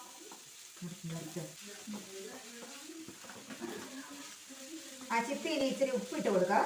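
Sliced onions and tomatoes fry in a pan while being stirred, a soft sizzle with light scraping that grows busier toward the end, under a voice.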